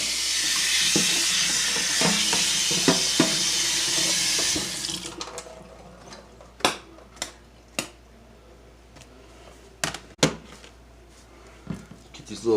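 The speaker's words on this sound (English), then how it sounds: "I'm gonna rinse off my cutting board" Tap water runs onto a cutting board being rinsed at a home sink, a loud steady hiss of pouring water for several seconds that stops abruptly, followed by scattered clacks and knocks of handling in a kitchen, with someone talking throughout.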